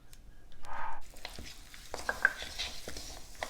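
A spoon scrapes and stirs chicken pieces through masala in a pan while flour and cornflour are mixed in, with soft sizzling and clinks of metal against the pot, close by.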